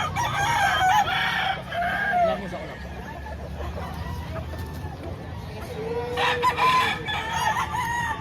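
Roosters crow loudly over chickens clucking nearby at a chicken seller in Lipa, Batangas, with a second crow near the end and faint voices in the background.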